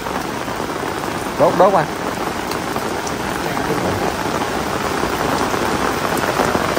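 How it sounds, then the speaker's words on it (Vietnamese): Heavy rain pours steadily near a graveside, a dense, loud hiss throughout, with a short burst of voices early on. "Trời mưa rồi"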